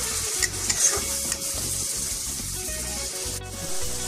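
A spoon works butter into thick pav bhaji in a hot pan, giving steady rhythmic scraping and squelching stirs over a continuous close sizzle.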